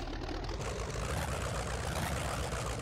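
A 1969 Dodge Charger RT engine in the video game My Summer Car, a steady, full low rumble holding at a constant, loud level for the whole few seconds, with no voices over it.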